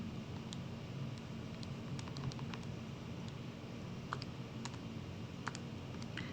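Light, quiet key taps on a calculator or keyboard come as scattered, irregular clicks over a steady background hiss.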